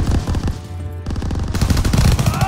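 Rapid automatic gunfire from Call of Duty WW2 rattles on without a break, loud and close, with a brief dip before the burst picks up again.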